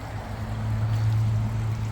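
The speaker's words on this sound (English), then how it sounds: "Tank is filling." RC submarine ballast tank flooding with water, a steady low rushing and gurgling hum that swells slightly, close and continuous with no talk.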